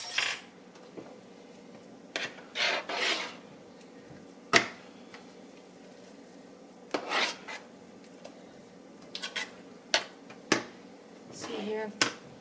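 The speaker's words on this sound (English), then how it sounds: "stirring that coconut all in there" A spoon stirs coconut into coconut cream pie filling in a bowl, giving intermittent scraping and rubbing strokes with occasional clinks against the dish, scattered across the stretch with quiet gaps between.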